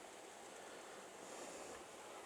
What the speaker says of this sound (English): The waterfalls at the back there.